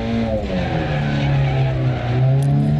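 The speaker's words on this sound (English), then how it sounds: "You throw it in there, and you can hear it sliding." A rally car in dirt rally school drives on a loose surface with its engine droning steadily. It understeers, and a loud continuous sliding noise runs the whole way through without pause.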